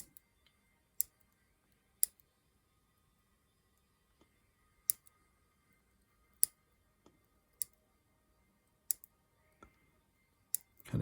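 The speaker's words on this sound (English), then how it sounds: "then you're going to come in with your nippers" Nippers snipping away 3D-printed support material on a model part, a sparse series of sharp, quiet clicks spaced a second or so apart, close by in an otherwise silent room.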